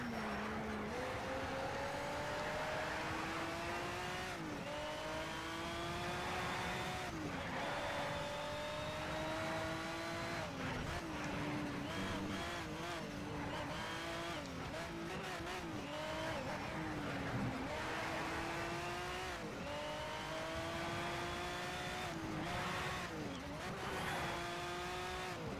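Race cars in the video game Need for Speed: Shift roar around a track, engines revving up and shifting in repeated cycles with tire noise, loud and continuous throughout.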